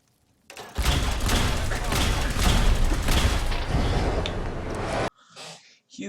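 Continuous loud gunfire from a Fallout 4 firefight, a dense rapid burst of shots and booms lasting around four seconds, then a short pause and a brief voice.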